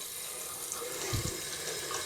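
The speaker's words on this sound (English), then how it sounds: "Obviously we'll have to listen to the sound of the running water." Water runs steadily from a kitchen tap into a sink while salt scrub is being made, a continuous close splashing hiss with a brief louder gush near the end.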